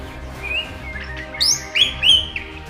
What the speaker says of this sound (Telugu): ఈ పక్షులు ఎక్కువగా ఇలాంటి శబ్దాలు చేస్తాయి